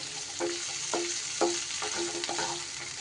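Whole spices with cashews fry in a pan, a steady sizzle punctuated by about five rhythmic spatula scrapes, close and moderately loud, with no voices.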